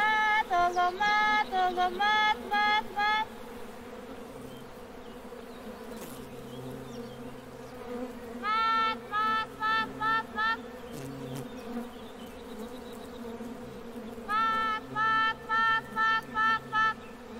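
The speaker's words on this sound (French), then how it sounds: "ne peut jamais être séparé du son des abeilles" A low steady honeybee buzz drones throughout, joined by bursts of rapid, repeated high-pitched chirping calls that come and go in clusters.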